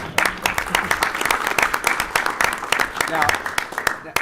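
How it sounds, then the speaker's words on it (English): An audience at a school board of education meeting claps in a warm round of applause. Many close, overlapping claps form a steady patter that lasts the whole moment. "that deserves a round of applause"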